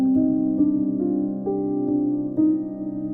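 Soft felted piano sample playing sustained high notes, each attack carrying a faint hammer knock, a gentle chord-like line with new notes every half second or so, close and intimate with no talking.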